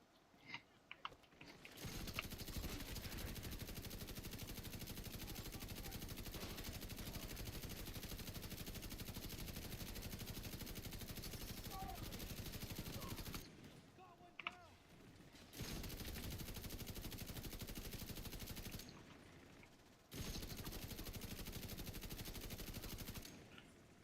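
Sustained machine gun fire in a shooter video game, long dense bursts of rapid shots lasting many seconds, broken by two short pauses before the firing resumes, loud and close.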